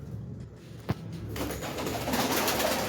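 A pigeon coos softly near a sharp tap, then a rushing flutter of wings and breezy outdoor noise builds.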